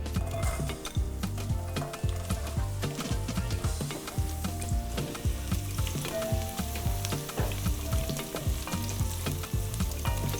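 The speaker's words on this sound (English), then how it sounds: "Okay, so now we introduce our onion into the pot." Onion sautéing in oil in a pot for jollof rice, giving a steady close sizzle broken by repeated rhythmic scraping and clattering stir strokes throughout, with no voices.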